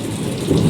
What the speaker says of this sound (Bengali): বজ্র বিদ্যুৎ সহ বৃষ্টি হচ্ছে